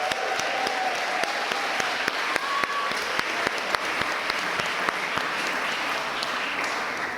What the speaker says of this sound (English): I want to give the applause to the 4 honorees.